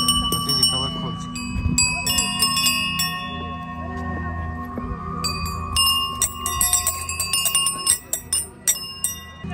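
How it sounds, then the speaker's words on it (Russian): Small bells at the entrance of a village park in Suntar, Yakutia, are struck by hand during the Ysyakh festival, giving a run of bright, ringing strikes that grow quicker and louder toward the end while people talk nearby. "И каждый, кто впервые заходит, должен постучать вот эти колокольчики."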